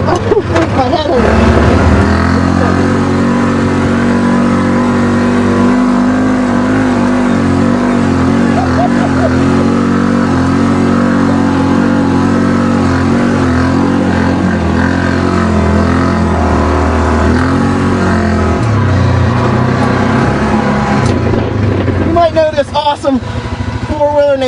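A Yamaha Rhino ATV's engine drones and revs loudly while riding, a steady close mechanical roar with rising pitch shifts, with people talking over it.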